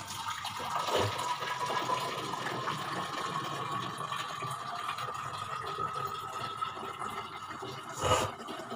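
Water runs from an Aquaguard purifier into empty bottles, a steady close rushing flow with a faint rising tone as the bottles fill and a brief clunk near the end.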